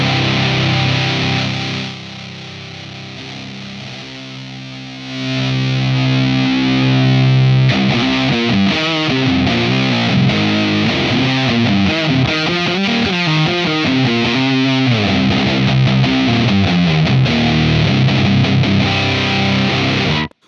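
An electric guitar runs through a Minotaur Swamp Lord fuzz pedal in Big Muff style: a thick, heavily distorted sustained chord opens, drops out briefly, then returns loud with churning riffs until a sudden stop.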